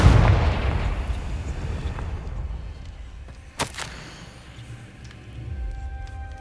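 A Confringo fire spell blasts in Hogwarts Legacy, a loud booming burst up front that rumbles and fades, followed by a sharp crackling impact pop and a lingering low magical hum.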